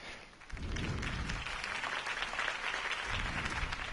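A crowd in the video game I'm the Night bursts into sustained applause and cheering, a dense wash of clapping that stays loud and even throughout.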